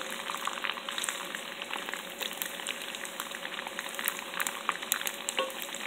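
Garlic frying in chili oil, a steady dense sizzle with crackling pops, close and fairly quiet, with no talk.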